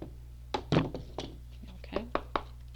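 Two tarot card decks being shuffled by hand during a reading, a string of soft thunks and riffling bursts spaced unevenly, close up, with a low steady hum beneath.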